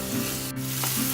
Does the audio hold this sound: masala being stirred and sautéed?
yes